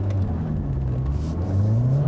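Honda Civic Type R engine in its most aggressive Plus R mode, a steady close-up drone that climbs gradually in pitch as it revs, running loud and continuous throughout with no talk.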